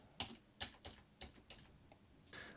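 Several sharp clicks of computer keyboard keys pressed one at a time, roughly every third of a second, close and fairly quiet, with a slightly longer press near the end and no talking.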